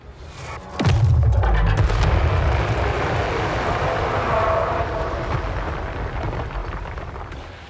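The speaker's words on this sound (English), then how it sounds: "Battles are a tremendous cacophony of beastly bellowing, horns and sirens, gunfire, and the clash of iron and steel" Dense battle din from Total War: Warhammer III, a loud sudden boom followed by a sustained rumbling wall of low roars, horn-like blasts and clashing noise that stays heavy and continuous throughout.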